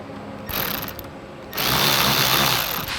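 A socket wrench turned through a wobble socket on a long extension backs out bumper fasteners on a 2020-on Corvette C8. It gives a loud, close, continuous mechanical whir in two bursts, the second longer and stronger, with no voices.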